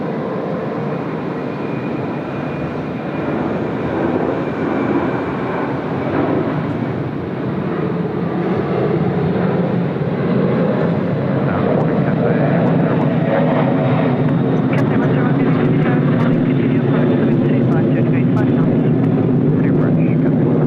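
An airliner passes at Sydney Airport, a broad jet engine roar swelling steadily louder over about twenty seconds, heard from a distance outdoors.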